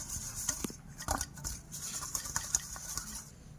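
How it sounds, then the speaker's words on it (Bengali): Beaten egg stirred in a bowl with a utensil, a quick series of soft scraping and tapping strokes, close and quiet, with a faint high hiss from oil heating nearby. "চলো এবার ডিমটাকে আমি এইভাবে"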